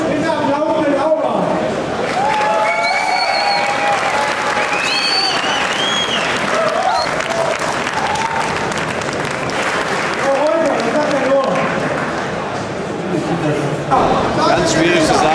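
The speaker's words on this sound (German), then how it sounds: "Einmal mit Applaus" A crowd applauds steadily for several seconds at a custom motorcycle show, dense clapping filling the space while voices talk and call out over it.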